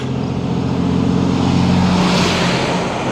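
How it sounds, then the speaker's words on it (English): A heavy vehicle rumbles past with a loud, broad roar that swells and then fades slightly, with steady low engine tones underneath. "Sounds like a truck coming."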